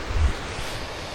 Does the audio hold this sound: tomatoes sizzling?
no